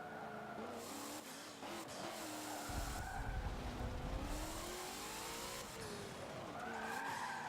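An all-wheel-drive car drifting around the Spa circuit in Forza Motorsport 7, with tires skidding and squealing in long sliding sweeps over a revving engine, steady and close throughout.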